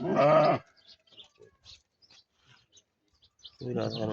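Very large sheep bleat up close, one loud wavering bleat at the start and another at the end, with quiet clicks and shuffling in between.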